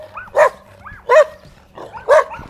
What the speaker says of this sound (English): Every house has dogs, so that's all you hear